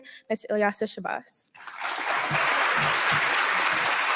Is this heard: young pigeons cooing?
no